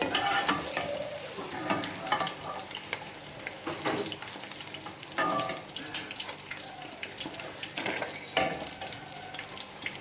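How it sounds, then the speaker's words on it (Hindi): Fish pan-frying in oil to golden brown, a close, continuous sizzle and crackle with scattered sharp pops and occasional stirring or flipping clatters. "ये देखें हम मछली हमारी अच्छी तरह फ्राई हो चुकी है।"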